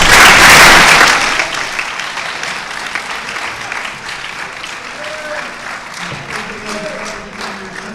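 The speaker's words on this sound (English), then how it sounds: "can we please give them all a round of applause?" Loud burst of audience applause for presidential primary debate candidates, peaking in the first second and then settling into steadier, sustained clapping with faint voices underneath.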